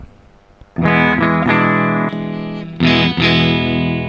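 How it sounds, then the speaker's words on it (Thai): An electric guitar through a Flamma FS06 preamp on its Fender-style setting rings out loud, sustained chords with a warm amplified tone, struck a few times after a brief quiet start. "เอาเสียงที่1แล้วกันเฟนเดอร์"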